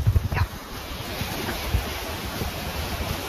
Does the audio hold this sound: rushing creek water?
yes